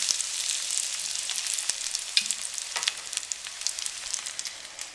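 Aloo bread rolls coated in breadcrumbs deep-frying in hot oil, a bright, crackling sizzle with scattered pops and bubbling, steady and close with no talk over it.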